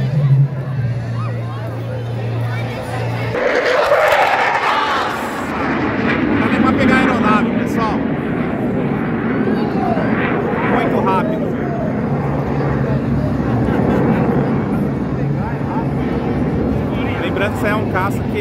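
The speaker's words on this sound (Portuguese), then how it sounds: "Essa daí é o caça da marinha, viu, pessoal?" A Brazilian Navy fighter jet roars past at the AFA 2022 air show, a loud, swelling rush of engine noise that builds and lingers while a crowd murmurs and someone talks nearby.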